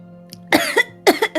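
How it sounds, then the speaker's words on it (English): A person choking on Thai tea and coughing, two sharp bursts of coughs close to the microphone over a faint steady background tone. "And then I coughed in everyone's face. I'm choking on the Thai tea."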